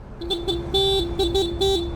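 An ADV scooter's stock horn beeps in a quick series of short, close honks with uneven spacing, high and buzzy, with no voices.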